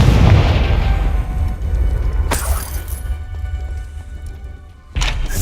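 A Confringo blasting spell goes off in the Hogwarts Legacy video game, a booming burst with shattering debris, followed by a second sharp blast a few seconds later over steady low game rumble.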